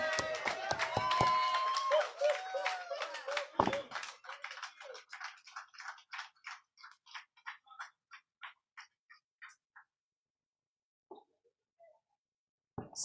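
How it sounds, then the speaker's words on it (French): An audience applauds Maman Thérèse at a seminar on celibacy, engagement and marriage. Voices open the moment, then a run of rhythmic claps follows, fading into sparse scattered claps. "Applaudissez pour elle."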